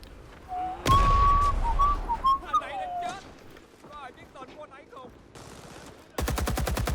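Gunfire in the video game Rising Storm 2, a burst of rapid shots at the end after whistling and other game sounds, with someone talking over the early part.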